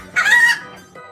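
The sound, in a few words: hen clucking and rooster crowing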